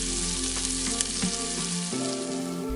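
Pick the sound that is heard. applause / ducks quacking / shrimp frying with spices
shrimp frying with spices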